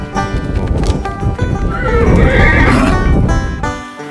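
Horses whinny loudly and close by while hooves clip-clop, on a ranch near the Calgary Stampede during a cattle drive.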